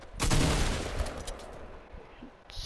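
A shotgun blast in a video game, one loud close boom up front fading into rumbling echo, then softer scattered noise trailing off.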